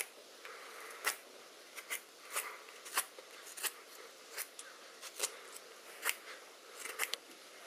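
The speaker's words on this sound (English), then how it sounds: "I'm just going to carve this down into a point, kind of a long point like this here" A small paring-type knife shaves wood down into a long point during a guitar repair, giving a series of close, crisp scraping cuts at an irregular rhythm with quiet pauses between strokes.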